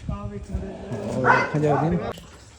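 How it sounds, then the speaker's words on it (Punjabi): Village dogs bark and yip at night, several animals close by, their barks and whimpers overlapping with people talking throughout. "ਪਿੰਡ ਦੇ ਕੁੱਤੇ ਬੜੇ ਇਕੱਠੇ ਹੋਏ ਜੀ"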